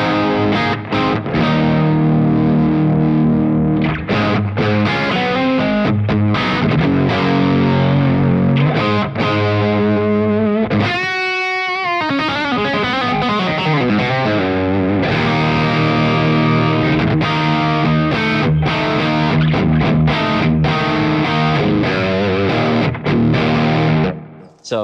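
A Gretsch Falcon electric guitar plays loudly through effects, with distortion and chorus-like shimmer across a busy run of notes and chords, including a brief pause and a swelling sustained note midway, no talking.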